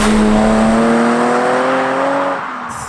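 BMW M635CSi with its M88 straight-six accelerating hard, a loud raw engine note climbing steadily in pitch for over two seconds, then easing off as the revs drop at the end.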